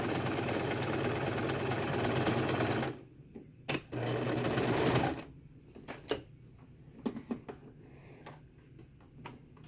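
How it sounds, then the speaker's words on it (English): A sewing machine stitches fabric a quarter inch at a time with back stitching, making a loud, fast continuous whir for about three seconds, then a short burst, a longer run, and scattered ticks and clicks. "Now I'm going to sew about a 1/4 inch, back stitching"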